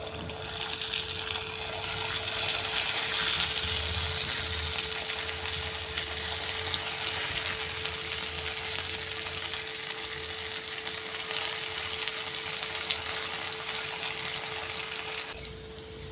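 Soya chunks frying in hot oil for dhaba-style soya fries, a continuous crackling sizzle with a steady low hum beneath, fairly close and heard alone, easing slightly near the end.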